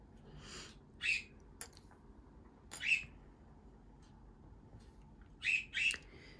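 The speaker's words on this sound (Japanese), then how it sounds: "鳥ちゃんが今日も元気だね。 よく泣いてる。" Small birds call near a bamboo-rod tanago fishing spot, giving a few short, high squawking chirps spaced a second or two apart, the last two close together, over a quiet outdoor background with no talking.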